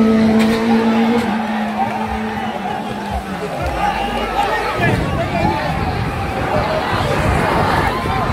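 A small Nissan rally car at an auto rally drives past with engine roar and tyre noise, approaching after an early lull and growing louder, while an excited crowd cheers and chatters throughout.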